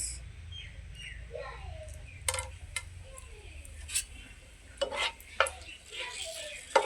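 Dry red chili, a bay leaf, cloves and cardamom fry in hot ghee. A low, steady sizzle runs under scattered scrapes and taps of a spoon stirring in the pan, close but quiet.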